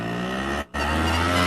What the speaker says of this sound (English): Doesn't it sound like it almost sounds like a little moped or a little scooter.